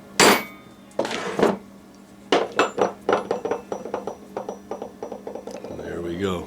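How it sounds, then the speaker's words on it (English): Metal hammer blows on a chisel while finishing off a cut on a model locomotive build: an isolated strike, then a run of about a dozen sharp, ringing clinks that quicken and fade, close and loud, with brief voice sounds at the end. "Give it a couple of whacks. Finish it off with a little chisel action here."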